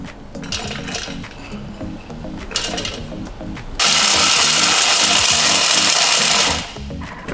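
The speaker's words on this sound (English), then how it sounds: "We put them in the food processor, but not to blend them too much to become powder." A food processor pulses and chops ingredients for vegan orange and cocoa truffles, a steady mechanical whirr with rhythmic clatter that suddenly grows louder and harsher midway before dropping back near the end, with no talk.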